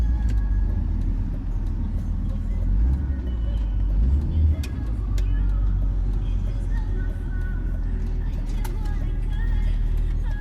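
A BMW E39 car engine idles and rumbles steadily up close while being moved and parked, with low road noise throughout and a few faint clicks and knocks over the hum.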